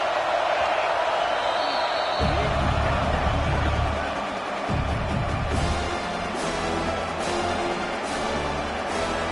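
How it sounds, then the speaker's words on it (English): A football stadium crowd in a video game roars and cheers steadily at a loud, continuous level beneath a commentator's running play-by-play. "This crowd bringing the energy and noise early."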